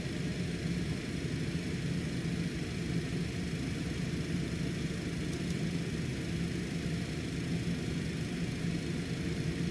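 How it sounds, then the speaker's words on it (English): A Cessna Citation jet engine runs steadily just after start, a constant broadband rumble and hiss heard from inside the aircraft, with no talking. "Engine has successfully started."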